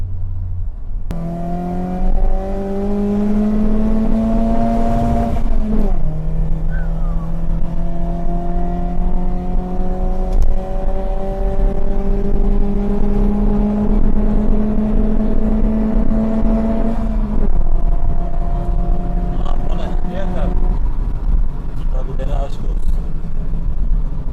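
BMW E30 with a swapped M44 engine climbing uphill, a loud in-cabin engine drone rising steadily in pitch through the gears with a brief shift dip and later gear change, while people talk over it.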